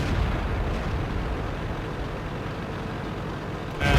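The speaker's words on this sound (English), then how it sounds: "Artillery is also trying to shoot him." Artillery fire and explosions in a tank video game featuring a Pz.Kpfw. IV Ausf. H, heard as a continuous low rumbling roar that ends in a sharp loud burst.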